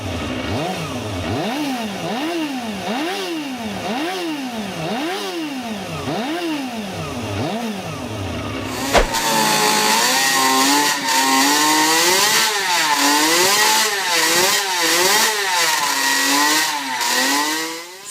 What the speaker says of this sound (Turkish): Suzuki RP68 20 bin devir çeviriyor.